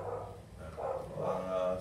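A dog barks a few times in quick bursts, mixed with background voices and room noise.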